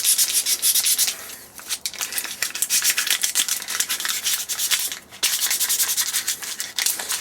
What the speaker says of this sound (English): we dampen a little bit of very, very fine sandpaper until we go through this